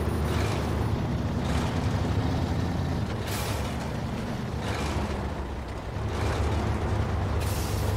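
A heavy truck engine in the SnowRunner game labours through mud, a steady low rumbling drone with periodic hissing bursts, loud and continuous without talk.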